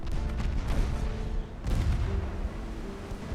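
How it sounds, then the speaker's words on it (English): A destroyer fires a torpedo salvo in Ultimate Admiral Dreadnoughts, a burst of heavy booming launches with a second thumping surge midway, loud and dense over rumbling naval battle noise. "First torpedo salvo away."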